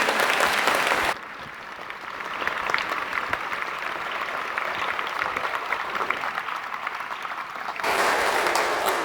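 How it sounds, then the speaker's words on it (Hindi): Loud, dense audience applause for scientists at a Science Day talk for students, steady clapping filling the whole stretch, briefly dipping in the middle before swelling again near the end. "इस बात पर बड़ी तालियां होनी चाहिए हमारे वैज्ञानिकों के लिए"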